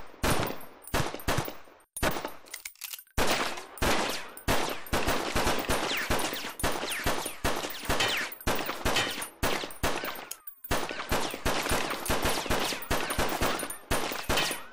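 Gunfire in the VR shooter Dynamic Shooting rings out in loud, close volleys of rapid shots, broken by brief gaps around two, three and ten seconds, then resuming in fast repeated bursts with no voices.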